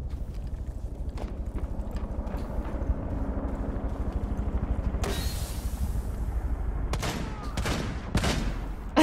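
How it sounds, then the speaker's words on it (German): Rainbow Six Siege video game gunfight, with rapid rattling shots under steady background rumble and sharper bursts of fire toward the end. "Alter, du schießt da so."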